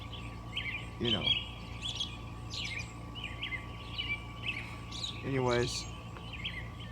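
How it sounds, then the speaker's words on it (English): Birds singing outdoors at 5 a.m., with repeated chirps and short warbling phrases close by over a steady background hum, while a person talks briefly. "Just wanted to give you the beautiful sound of the birds"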